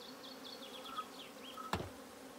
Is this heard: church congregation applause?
no